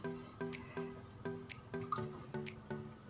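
Brine being drained from a can of tuna: a run of small, regular liquid glugs and drips, about eight evenly spaced pulses, close and fairly quiet, with occasional faint clicks between them.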